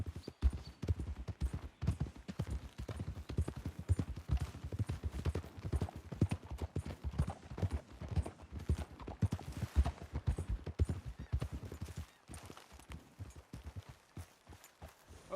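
Horses trotting in the video game Red Dead Redemption 2, with continuous rhythmic hoof clip-clops, moderately faint and steady throughout, slowing and briefly pausing near the end.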